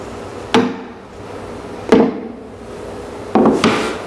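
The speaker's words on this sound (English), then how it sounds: "I'm just going to get in there with a hammer and pound it in a little." Hammer blows on a carriage bolt set in a wooden board, three separate hits spaced over several seconds, the last a quick double strike, close and sharp against a quiet room.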